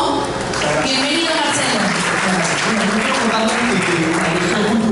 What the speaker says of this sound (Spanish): Un fuerte aplauso para Marcelo Wong.